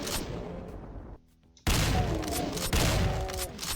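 Rapid gunfire and blasts from the first-person shooter DOOM, a loud burst, a brief near-silent gap, then a dense sustained barrage of shots and booms.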